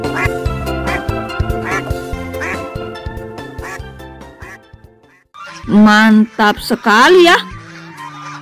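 Loud nasal honks from a white goose come in a burst of several calls near the end. Before them, other animal-like cries and a person talking are heard.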